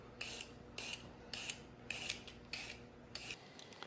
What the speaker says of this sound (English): I'm going to peel the carrots and then either slice them or cut them lengthwise